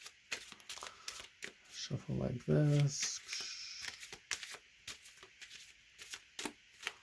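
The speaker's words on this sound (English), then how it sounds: "spectator can shuffle the cards" Playing cards are riffled and shuffled with crisp, rapid fluttering and snapping, while someone talks briefly in between.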